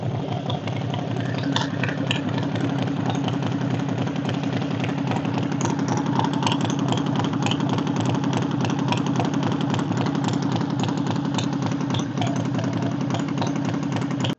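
A Harley-Davidson XL 883 Iron motorcycle engine idles steadily and close by, with a deep, even rumble and a light mechanical rattle that holds throughout, and no one speaks.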